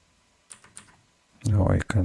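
Someone types a terminal command on a computer keyboard: a few light keystrokes, then a dense, louder burst of close clicking and tapping.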